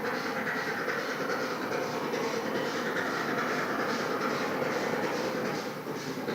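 Steam locomotive pounding up a 1 in 49 gradient, its exhaust a steady loud chopping rhythm that fills the whole stretch alone, with rail noise underneath and a slight easing at the very end.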